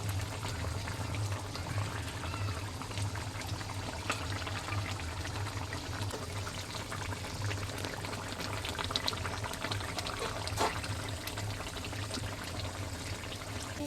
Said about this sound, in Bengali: ঝোলের আওয়াজটা তোমরা একটু শোনো